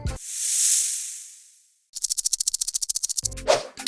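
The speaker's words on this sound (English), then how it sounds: "Yes, it's the snake." A snake lets out one long, breathy hiss that swells and fades, followed by a rapid train of dry, rattling pulses, close and isolated.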